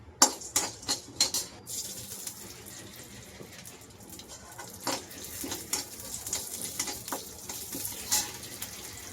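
Melon seeds and almonds dry-roasting in a pan for traditional suntwada, with scraping stirs and light rattling taps, a few sharp clicks early on, then steady soft scratching at close range with no talk.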